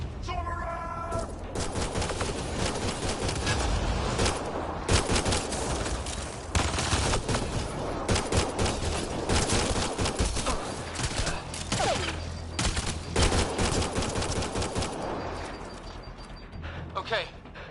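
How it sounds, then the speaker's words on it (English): Gunfire in a Mass Effect Andromeda firefight: dense, continuous bursts of shots and impacts run loud throughout, mixed with game music and effects while characters talk over the action. "Naya, shoot it!"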